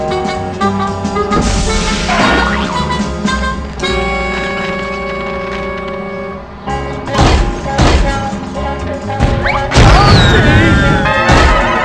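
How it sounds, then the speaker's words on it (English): Wood smashed by a character's head in the Ed, Edd n Eddy game, several loud cracking crashes and thuds over game music, with voices talking between the impacts. "I will smash the wood with my head"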